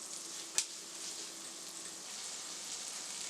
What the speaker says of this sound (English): I'm going to let this fry up for about 2 minutes and add the other ingredients